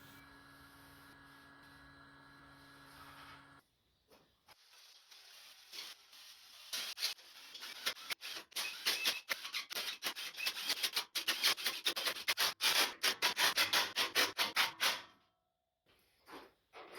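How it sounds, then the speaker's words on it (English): A brush works a coat of Penetrol onto bare steel flat bar for a welding table, a quiet hum giving way to many quick, close scratchy brush strokes in a rapid rhythm before stopping. "I'll give them a coat of Penetrol"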